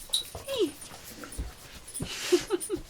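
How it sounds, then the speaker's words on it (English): A pet dog whimpers indoors in a series of short high-pitched whines and yips, with people talking nearby. "We acquired dog. It's our baby."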